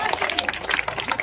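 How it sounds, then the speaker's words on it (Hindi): A seated audience at a Hindi-language talk on government schools breaks into brief, scattered clapping, a short burst of applause with voices mixed in. "ताली बजाइए सर के लिए आप लोग"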